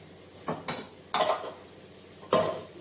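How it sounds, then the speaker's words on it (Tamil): Black kavuni rice flour roasted in a hot iron pan, a spatula striking and scraping the metal in four separate clanks, close by in otherwise quiet surroundings. "ஒரு இரும்பச்சட்டியை நான் சூடு பண்ணி வச்சிருக்கேன். இதுல நம்ம நல்லா வறுக்கணும்."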